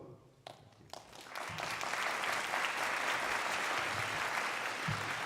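Audience applause at a college nursing pinning ceremony for graduates: a few scattered claps swell into steady, sustained clapping from a large crowd, fairly distant and even.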